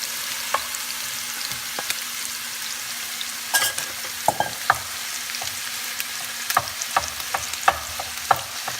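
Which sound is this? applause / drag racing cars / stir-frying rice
stir-frying rice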